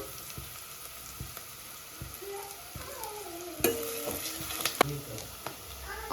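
Onions fry in a home kitchen pan toward golden brown, a quiet steady sizzle broken by regular spatula scrapes and a few sharper metallic knocks, with faint tonal sounds drifting in the background.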